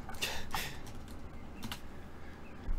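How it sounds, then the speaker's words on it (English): Fingers tap quickly on a computer keyboard, a soft close patter of clicks in uneven bursts over quiet room tone, with no voices. "I'm typing out messages to people in Discord, in our Discord, while doing the pre-show"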